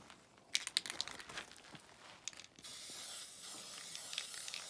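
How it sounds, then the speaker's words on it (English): A model rocket is spray painted inside a box: quiet clicks and rattles from handling the can come first, then a steady close aerosol hiss that lasts a couple of seconds. "now we're gonna spray paint the other part"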